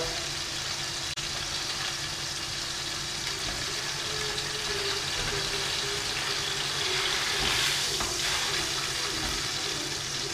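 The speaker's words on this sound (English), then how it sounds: "As you can see, it's searing away, not too long." Beef steak searing in a hot pan gives a steady, dense sizzle throughout, with a low hum underneath and a slight swell near the end.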